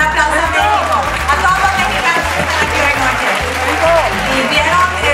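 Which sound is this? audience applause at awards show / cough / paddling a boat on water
audience applause at awards show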